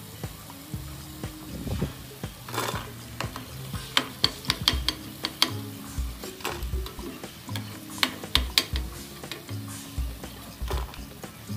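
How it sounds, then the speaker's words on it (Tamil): Idli pieces deep-frying in oil give off a steady sizzle with frequent sharp clinks and scrapes of a utensil stirring and lifting them from the pan. The pieces sound close and fairly loud, and there is no speech. "இதே மாதிரி எல்லா இட்லியும் பொரிச்சு எடுத்துக்கலாம்."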